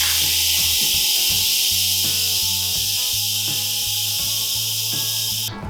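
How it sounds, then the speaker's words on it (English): An Instant Pot pressure cooker vents steam in a loud, steady, close hiss that runs unbroken over a low hum before cutting off abruptly at the end. "the first thing we have to do is release the steam"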